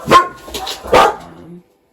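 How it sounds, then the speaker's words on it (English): A dog barks loudly and close by, two sharp barks about a second apart with a softer yip between them, then silence. "the dog started barking"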